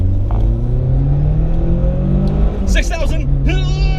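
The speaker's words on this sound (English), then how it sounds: "I'm about to floor it." A VW 16V engine fitted with motorcycle carburetors revs hard at full throttle, its loud tone climbing steadily in pitch as the car accelerates, then briefly dropping on a shift before climbing again, with someone talking over it.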